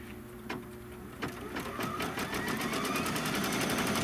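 An embroidery-style quilting machine stitches a quilting design over a pieced block, a steady loud mechanical whir with fast rapid needle pulses building after a few initial clunks, running continuously to the end.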